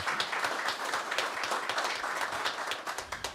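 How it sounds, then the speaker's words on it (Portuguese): Audience clapping at a public health hearing in a council chamber, a steady burst of many hands applauding for a few seconds, fairly close and moderately loud. "Uma salva de palmas aí para a Silvia."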